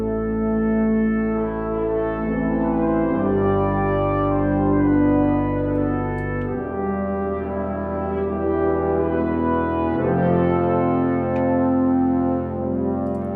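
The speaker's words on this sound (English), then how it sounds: "So with the trumpet, it sounds like this with the mastering chain." Sustained orchestral trumpet chords from the BBC Symphony Orchestra Professional sample library, run through a mastering chain, swell and shift in slow steps, full and polished with a strong low end, no voices.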